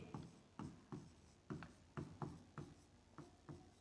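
Faint, quick writing strokes come in short rhythmic scratches, about a dozen over a few seconds, during a physics lesson deriving the mirror formula, with no speech.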